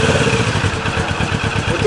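A Kawasaki Ninja 650 sport touring motorcycle engine idles close by with a throbbing, rapid pulse, steady and loud with a slight rough rumble throughout.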